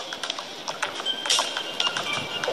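Horse hooves clip-clop in a quick, steady rhythm in a police-themed mobile video game, with a constant bright hiss and electronic tones underneath.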